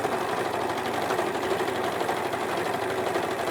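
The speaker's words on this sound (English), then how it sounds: "I'm now just going to overlock that edge." An overlocker sewing machine stitches along a fabric edge, giving a fast, steady mechanical whirr with a rapid rhythmic chatter, close and continuous throughout, no voices.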